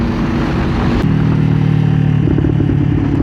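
A 2024 Kawasaki Ninja 500 motorcycle engine running close by, a loud, steady throbbing hum that lifts in pitch as the throttle is blipped toward the end.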